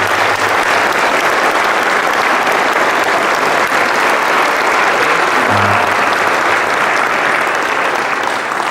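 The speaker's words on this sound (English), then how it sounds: "we give both our choirs a wonderful round of applause once again" Loud sustained applause from a church congregation for two choirs, a dense, even wash of many hands clapping without pause for nearly nine seconds, filling the space close up.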